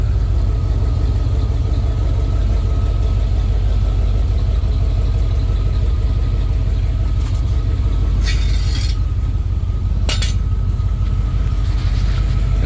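A box Chevrolet Caprice wagon idles through a freshly welded exhaust and muffler with a deep, steady rumble, close and continuous, with a couple of brief higher hissy bursts.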